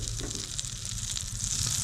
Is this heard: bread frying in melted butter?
yes